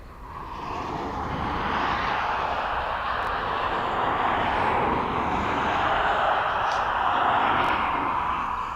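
A Ryanair airliner from Girona passes at East Midlands Airport, a broad jet roar that swells in and holds steady over several seconds, distant but loud, with no talk over it.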